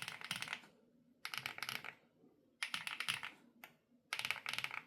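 Rapid bursts of typing on a Rainy75 or Bridge75 mechanical keyboard, crisp clacky keystrokes in quick clusters separated by short pauses, close and fairly quiet, with no talking.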